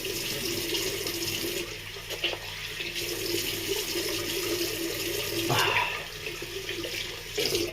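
Cold tap water running steadily into a sink during a rinse, a continuous close splashing rush with small shifts in the flow and no voices.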